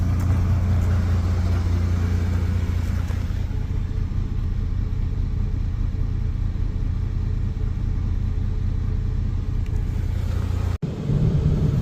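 A car engine fitted with Holley Sniper S10 fuel injection idles steadily and close by, its deep rumbling lope running slightly rich and continuous, with a brief cut near the end.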